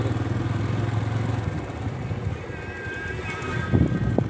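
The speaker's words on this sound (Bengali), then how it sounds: "গ্রামের এই মাঠের রাস্তাগুলোতে বাইক চালাতে আসলে খুবই ভালো লাগে" A motorbike rides along a winding village field road, its engine droning steadily up close, easing off midway and then picking up again with a brief rougher burst near the end.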